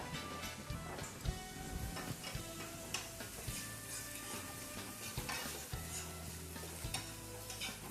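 Butter sizzling in a dry pan fills the scene with a continuous frying crackle, overlaid by repeated ticking stirs and scrapes of a utensil, close and busy, with no one speaking.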